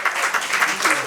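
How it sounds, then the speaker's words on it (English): Brief burst of audience applause at an anniversary celebration in a hotel, dense rapid clapping lasting about a second. "Can we give them a round of applause, please?"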